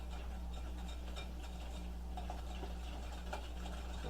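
A utensil stirs a cup of sugar into pumpkin pie filling, giving a faint, irregular scraping and ticking against the bowl over a constant low background hum.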